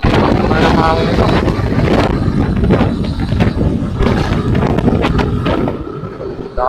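Strong wind by the sea, roaring and buffeting close to the microphone in a continuous loud rush, with scattered thumps and a voice faintly heard beneath it.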